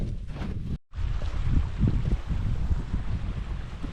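Strong mountain wind gusts buffet the microphone on a descent in the Caucasus near Kazbek, a loud broadband roar with a brief dropout near the start, then sustained rushing noise with no voices.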